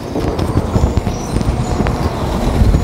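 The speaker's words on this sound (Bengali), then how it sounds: "I can see a train approaching right now" A loud, steady rumble of a train running close by, with rattling wheels and metallic clatter continuing throughout.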